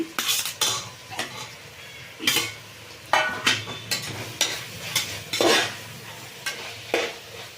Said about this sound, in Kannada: ಟೊಮೆಟೊ ಸ್ವಲ್ಪ ಎಣ್ಣೆನಲ್ಲಿ ಫ್ರೈ ಆಗಲಿ ಅಲ್ಲಿವರೆಗೂ ಬಿಟ್ಬಿಡೋಣ